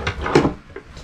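Bedside drawer in an Airstream Classic travel trailer sliding open or shut, two or three close, soft knocks and rubs in quick succession, fairly loud with no voices.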